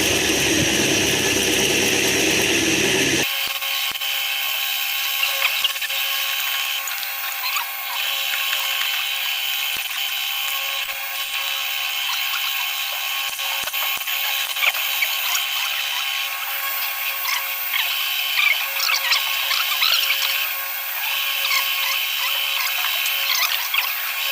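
A power tool whirs steadily as it backs out the screws around the CVT cover of a SYM ADX TG400 scooter, a loud, close, sustained mechanical drone with small fluctuations throughout.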